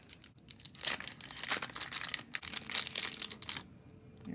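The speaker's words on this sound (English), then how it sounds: "Model Magic comes in a little plastic bag" A small plastic bag of Model Magic modelling clay crinkles and crackles close up, in uneven bursts of sharp rustling with brief pauses between handlings.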